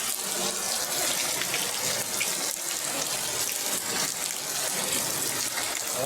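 Steady rushing rainwater pours and gushes continuously into a small, flooding drain during a storm, a dense, loud flow with no pauses.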